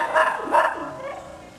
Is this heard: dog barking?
yes